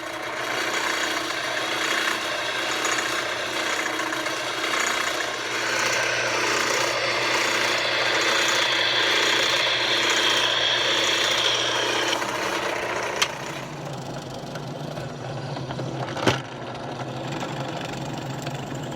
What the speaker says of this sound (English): So I'll get these cut out, drill some holes, and get this baby glued up.